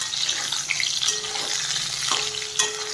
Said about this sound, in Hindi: एबे आलू भाजी दबा।